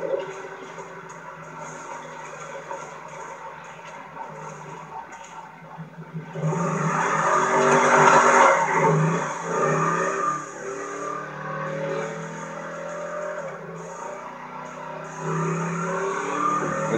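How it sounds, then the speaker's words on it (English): A video game car engine in GTA revs hard with a throaty exhaust roar, surging loudly mid-way and then settling into a steady drone. "Sounds so much better with that exhaust."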